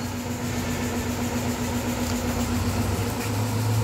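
A Mitsubishi MT 30 truck engine idles steadily, a constant low hum with a faint tonal drone and no talk.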